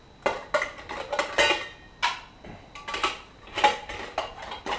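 Snow Peak camping cook set lids and pots clatter as they are stacked and nested inside one another, a series of sharp metallic clinks and knocks in irregular bursts, close and fairly quiet.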